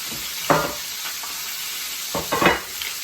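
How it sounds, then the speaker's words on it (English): Steady sizzling hiss of spatchcocked chicken searing in a hot pan, with a couple of brief clattering stirs and scrapes. "You can hear that really searing up on that side."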